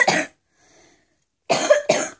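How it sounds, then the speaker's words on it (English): A person coughs indoors, one short cough followed after a pause by two quick, close, loud coughs. "Oh yeah, and I also have that cough."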